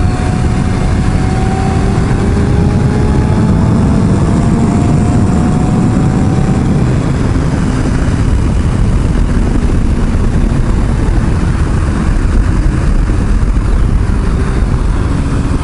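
A Yamaha YZF600R motorcycle engine runs in a steady, loud drone mixed with rushing wind noise for the whole stretch, with no talking.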